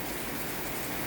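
Rain falls steadily in Flores, Indonesia, in November 2022, a dense, even hiss of drops on surfaces with no voices.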